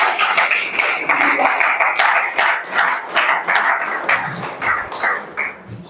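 A seated audience at a university museum gathering in Kinshasa claps for a professor, steady mid-distance applause of many hands that loosens into scattered individual claps toward the end.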